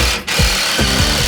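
A power drill drives screws into a new timber joist in a cottage renovation, giving short whirring bursts that bite and stop in quick succession, close and fairly loud.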